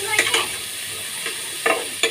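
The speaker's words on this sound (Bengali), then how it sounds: "ডালটা দিয়ে দিলাম তেলের মধ্যে ভাজার জন্য" Lentils frying in oil with onion, green chili and garlic in a pan, with a few short sizzling bursts and stirring scrapes spaced out over a steady low hiss.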